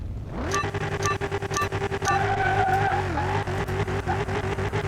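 A car launching down a drag strip in Car Mechanic 2021, engine revving up hard then holding a loud sustained drone with tire squeal and shifting pitch, close and continuous.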